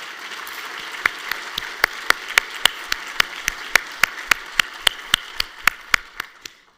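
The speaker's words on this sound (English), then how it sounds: "Let's please give Christine and her team a big round of applause for a job beautifully done." A recorded State of the City presentation ends with even, rhythmic clapping, sharp distinct claps in a steady beat that sounds like a small group or a single close clapper, tapering off at the end.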